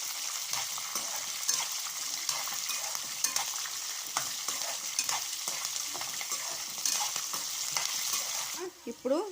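Chopped green chillies and dried red chillies fry in hot oil for tamarind rice, giving a steady, dense sizzle with scraping stirs and light metallic clinks throughout, close and continuous.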